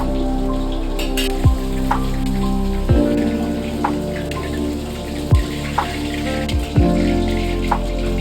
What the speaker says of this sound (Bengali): আমার ঝোলটা ফুটে আসছে, এখন আমি মাছ দিয়ে দেবো।